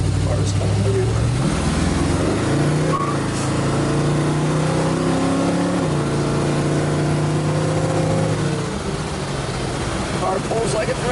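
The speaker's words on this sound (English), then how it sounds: "get an idea of what it sounds like when you get on it a little bit" A 1972 Chevrolet Nova engine pulls hard under load, its pitch climbing through gears before easing off, loud and continuous throughout.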